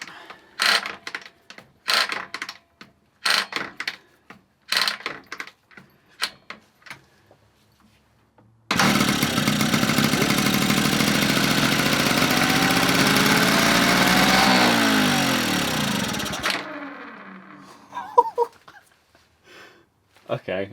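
An old engine left abandoned for twenty years catches on choke and revs up by itself, a loud steady roar lasting several seconds before winding down, with people talking before and after.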